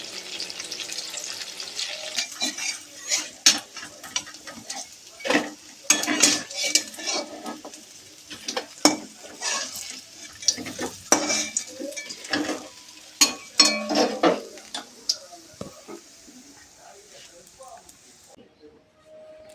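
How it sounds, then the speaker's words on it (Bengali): Raw banana and potato fritters being refried in a pan, with repeated sharp clinks and scrapes of a metal utensil against the pan over a low sizzle, irregular and close, with a voice speaking at times. "তো ওই বড়াগুলো ভাজা হয়ে গেছিলো এবং এই বড়াগুলো আবার ভাজি দিলাম নতুন করে।"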